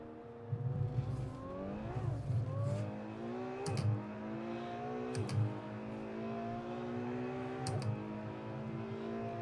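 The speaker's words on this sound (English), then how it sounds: "Those downshifts sound pretty brutal too." A Ferrari race car engine in the video game Assetto Corsa roars and downshifts repeatedly, with rising revs broken by abrupt pitch jumps and clunking shift noises, loud and continuous.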